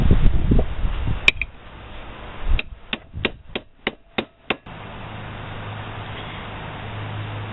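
Someone hammers out the bearing caps of a Jeep U-joint, one early strike then a fast series of seven sharp metallic blows in a row, close over a low background hum.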